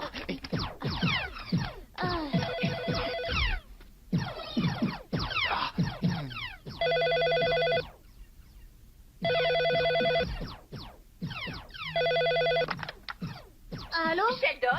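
Telephone ringing in a French animated episode, repeated bursts of a bright electronic ring alternating with stretches of voices speaking between the rings.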